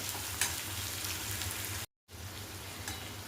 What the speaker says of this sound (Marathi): परत एक दोन मिनटं असंच आपण परतून घेऊया याला